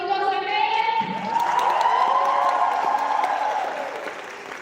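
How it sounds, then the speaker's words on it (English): A hall audience applauds at the Xenith' tech talks closing ceremony, a swelling wash of clapping that peaks midway and then tapers, heard under sustained music tones. "And people all round of applause for closing of Xenith'."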